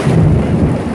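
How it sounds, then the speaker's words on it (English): Thunder rumbles heavily during a severe storm in Monticello, Iowa, a loud deep continuous roll filling the moment, with wind buffeting close by. "I think our buddy Thunder's right behind us here."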